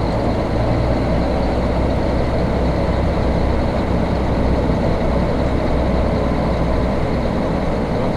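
A truck idles at a tire repair shop, its heavy engine holding a loud, steady low rumble throughout with no breaks and no voices.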